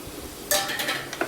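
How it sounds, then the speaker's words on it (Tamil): Cut mushrooms drop into a masala in a hot pan and set off a sudden bright sizzle partway through, which continues briefly with light crackles. "இதில் நம்ம கட் பண்ணி வச்சுருக்க மஷ்ரூம்ஸ் ஆட் பண்ணிக்கணும்."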